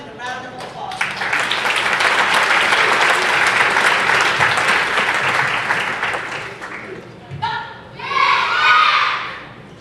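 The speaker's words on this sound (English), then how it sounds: "Please welcome them with a round of applause." An audience at a Teacher's Day celebration applauds a Korea TaeKwonDo demonstration by children and students, loud sustained clapping that fades, then a short burst of shouted cries and cheering.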